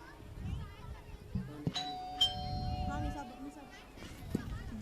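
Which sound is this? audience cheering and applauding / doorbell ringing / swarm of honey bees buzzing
doorbell ringing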